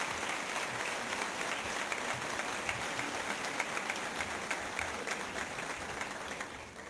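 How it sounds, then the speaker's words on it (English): A crowd at a health professions academy graduation ceremony gives graduating students a round of applause, with dense, even clapping held steady throughout and easing off slightly at the end, heard from a distance. "Let's give these students a round of applause for their accomplishments."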